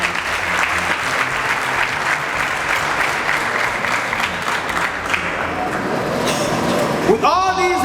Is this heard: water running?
no